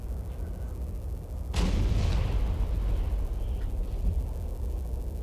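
Cannon artillery from the Napoleon: Total War video game, with one heavy boom followed by a long rumbling tail over constant low battlefield noise.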